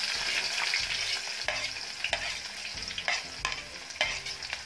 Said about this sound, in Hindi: अब हम उसमें कटी हुई प्याज डालेंगे।